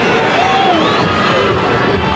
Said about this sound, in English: Crowd getting behind Lawler, trying to get him steamed up.